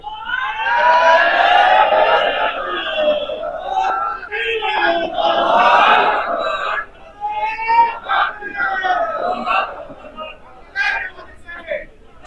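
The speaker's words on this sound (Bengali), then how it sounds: "আমরা স্লোগান দিয়ে তাকে বরণ করতে চাই।" A large crowd at a political rally chants slogans in loud, rhythmic bursts of many voices to welcome a leader, with call-and-response surges and short pauses between chants.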